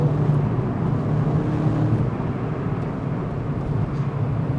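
A 2013-2014 Mini JCW GP engine runs at around 4,500 RPM on a twisty road, a steady low, dense drone with road rumble and no voices over it.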